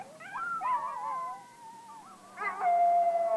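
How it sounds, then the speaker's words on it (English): Wolves howl in long, wavering tones, several voices overlapping and rising and falling, with a louder, steadier howl near the end; clear and close with no talking. "Wolves and dogs both communicate by howling."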